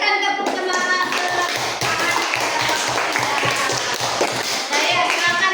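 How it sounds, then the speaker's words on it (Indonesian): Fifth-grade elementary schoolchildren in a classroom clap in a quick, steady rhythm for a group's project, loud and continuous with a few young voices mixed in. "Silakan berikan tepuk semangat ke"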